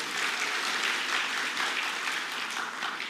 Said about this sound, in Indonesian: Coba kasih tepuk tangan dulu buat guru-guru sekolah minggu.